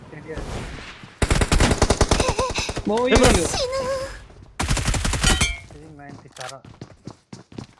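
Shotgun and rapid gunfire in a video game: dense bursts of loud shots in several long volleys with brief gaps, mixed with game sound effects and tonal chimes, while players talk over the action.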